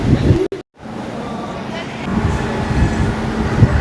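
A train pulls in at a station platform on the line to Bandel, a steady low rumble and rattle building after a brief gap, with a voice speaking nearby.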